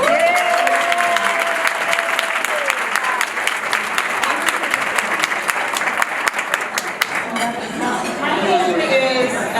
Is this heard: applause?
yes